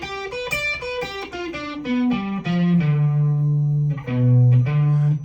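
Electric guitar plays a blues arpeggio shape as single picked notes stepping downward, ending on two long sustained low notes, clean and close with no talking.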